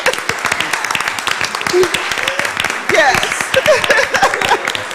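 A city commission meeting crowd applauds an award winner, dense steady clapping throughout, with voices talking and cheering over it.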